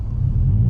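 A 2022 Subaru WRX with an aftermarket exhaust gives a deep, steady rumble, close and continuous, with a low drone rising slightly.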